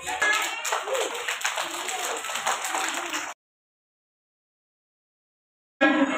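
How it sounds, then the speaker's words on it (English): A group of people clapping hands at a school prize announcement, a dense steady patter of applause for about three seconds, then silence, then the clapping starting up again at the end. "Clap your hand."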